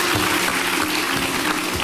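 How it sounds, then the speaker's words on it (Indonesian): Loud, close studio audience applause on an Indonesian TV talk show, a dense wash of clapping filling the whole short stretch without pause. "Kita kasih tepuk tangan dulu sekali lagi."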